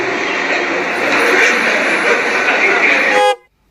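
A voice imitates a vehicle horn, held as one loud, steady, nasal honk for about three seconds before cutting off sharply into silence.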